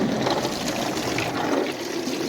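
Steady hiss of water spraying inside a Ryko Softgloss Max automatic car wash at a gas station, a continuous close, dense wash of spray with no talk.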